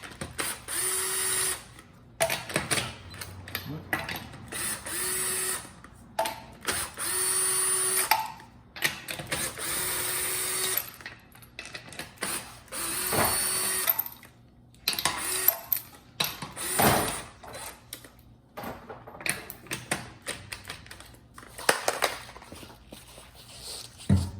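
A ratchet clicks in repeated bursts while removing 21 mm lug nuts from a Lexus GX470 wheel, with clanks of metal and handling noises between the close, sharp ratcheting runs.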